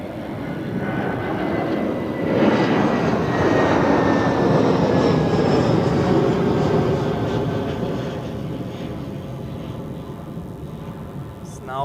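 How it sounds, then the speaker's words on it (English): A heavy Edelweiss jet departs runway 28 at Zurich Airport, its engines building into a loud, broad roar that holds steady, then slowly fades as it climbs away. "now we observe the last heavy departure of this departure rush on runway 28"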